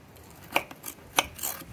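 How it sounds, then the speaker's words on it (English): A knife cuts through smoked baby back ribs. Two sharp crunching cuts come into the bone, followed by a few softer scrapes, all close and quiet with no speech. "Let's see what they how they cut right in the bone."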